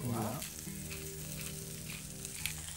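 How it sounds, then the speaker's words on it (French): Veal kidneys searing in a hot frying pan, giving a dense, steady sizzle after a brief louder burst at the start, with no voices. "On chauffe un peu la poêle. On va les saisir."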